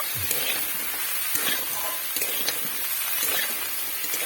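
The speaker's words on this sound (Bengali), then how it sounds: "তো পেঁয়াজ তুলিতে দেওয়ার পর সবগুলি ভালোভাবে এটিকে নাড়াচাড়া করে নেব" Onion greens (spring onion stalks) sizzle steadily in hot oil in a pan while being stirred, a continuous close crackling hiss with occasional scraping accents and no voices.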